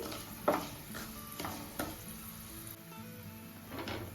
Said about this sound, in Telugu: ఇంకొంచెం వెల్లుల్లిపాయలు కూడా భలే చక్కగా వేగుతున్నాయి కదా.